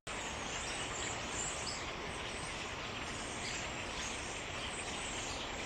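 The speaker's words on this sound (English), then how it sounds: "We are getting a crap ton of birds in the area lately." A dense chorus of many birds calls from the trees, a steady wash of chirps and tweets that holds at an even level throughout with no voices.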